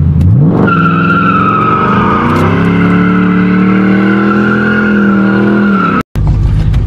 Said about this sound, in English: back in like 2016, me and Pap were doing donuts here